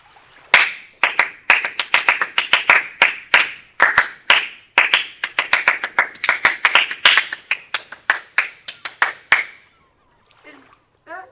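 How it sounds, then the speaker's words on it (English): Hands clap out a rhythm in a theatre rehearsal setting, crisp close claps in an uneven run of quick bursts for about nine seconds, then stopping as a voice speaks briefly. "Clap it out"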